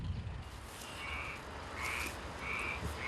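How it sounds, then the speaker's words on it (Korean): A native black-spotted pond frog croaks in a rice paddy, giving three or four rasping calls at a steady pace over a low, constant outdoor hum. "도심에선 보기 힘든 토종 참개구리"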